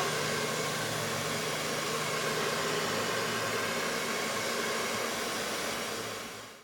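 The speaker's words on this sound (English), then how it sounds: "I needed to use the hair dryer before applying a second coat" A hair dryer blows steadily at close range to dry wet paint on a miniature between coats, a constant airy whir that holds level and then fades off at the end.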